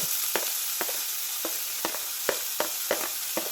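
Onions and green chili sauté in a pan for a potato roast, giving a steady soft sizzle with sharp scraping clicks of a spatula stirring at irregular intervals, close and clear, no talk.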